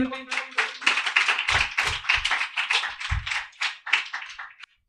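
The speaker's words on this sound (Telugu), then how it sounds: "ఒకసారి అందరు చప్పట్లు కొట్టండి" A congregation at a Sunday church service breaks into a burst of hand clapping, a dense, loud patter of many claps lasting several seconds before stopping abruptly.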